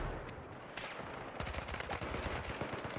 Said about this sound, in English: I'm throwing a flashbang in the corner, right?